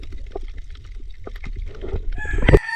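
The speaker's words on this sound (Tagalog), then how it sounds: "Oops, manok. Ay, hamal na manok." A chicken clucks in short bursts nearby, building to a louder squawk near the end, amid light outdoor clatter.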